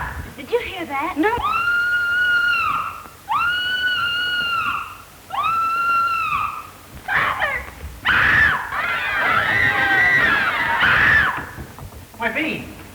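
A woman screams in several long, loud, wailing bursts, followed by more frantic shrieking and overlapping voices.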